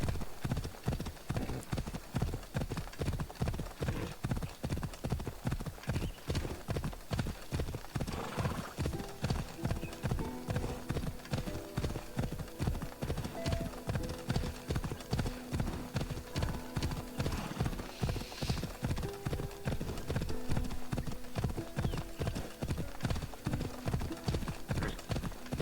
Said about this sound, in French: Parfait, en plus le cheval il court vite.